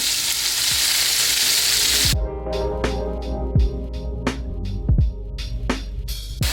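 Onions and carrots hit a hot pan with a loud, broad sizzle that settles into a softer fry, punctuated by sharp spoon clacks against the pan as they are stirred, no voices.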